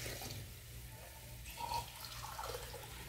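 Water poured from a tap into a pot of beans during home cooking, a soft continuous splashing trickle, faint and steady, with no talk over it.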